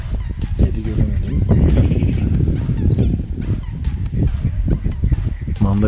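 Geese honk repeatedly in a noisy village farmyard, with clucking chickens and a voice mixed in nearby.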